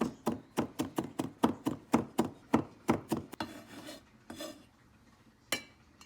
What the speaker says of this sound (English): So you need about like a teaspoon of ginger. I'm going to mince it.